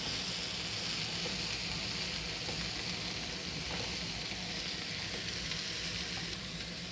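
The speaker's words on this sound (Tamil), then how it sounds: "இப்போ கேரட்டையும் போட்டுக்கிட்டேன். இந்த கேரட் பச்சை வாசனை போகிற வரைக்கும் அப்படியே வதக்கலாம்." Chopped carrots sautéing in an oil pan for a carrot chutney, giving a steady, even sizzle that holds at moderate loudness throughout, close by, with no talking.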